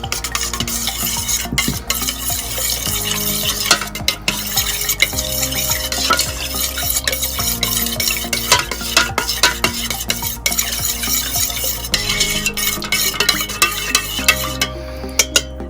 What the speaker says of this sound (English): make sure we mix it up really well